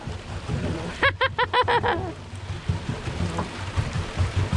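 Steady rain hisses across the whole clip, close and fairly loud, with a brief burst of chattering voices early on.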